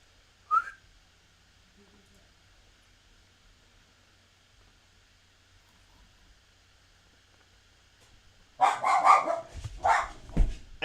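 A dog barks indoors in a kitchen, a short sharp yelp at the start, then after a long quiet stretch a loud burst of several rapid barks close by.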